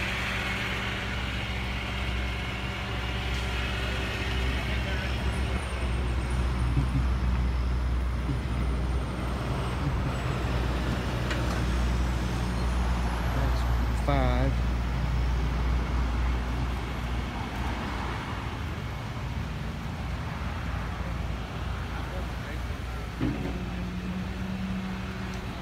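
Cars and trucks pass on a road with a continuous rumble of traffic and idling engines. A few louder vehicles go by, and faint voices are heard in the background.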